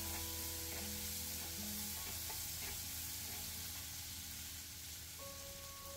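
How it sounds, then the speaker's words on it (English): Chopped onion fries in a pan with a steady, loud sizzle and crackle that runs unbroken throughout, with faint stirring sounds and a low hum underneath. "add 1 chopped onion and fry till the onion becomes translucent in color"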